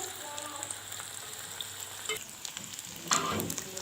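Cauliflower coated in starch fries in hot oil with a steady, close crackling sizzle and a louder burst of spattering near the end.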